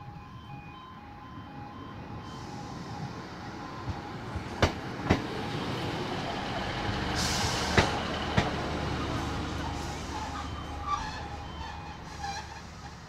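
A class 153 diesel unit, 153379, runs through Hykeham station, heard as a steady distant rumble with sharp wheel clicks over rail joints. Faint insect buzzing sits over the top.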